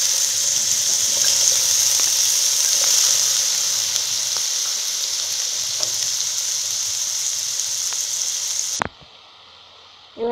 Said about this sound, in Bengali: এবার ভাজার জন্য আলুগুলোকে গরম তেলে আস্তে আস্তে দিয়ে দিই।